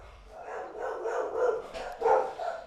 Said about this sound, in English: All I hear is my dogs going nuts.